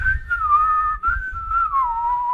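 A person whistles a melodic tune, a clear wavering line held continuously for a couple of seconds with brief breaths, over a low rumbling background.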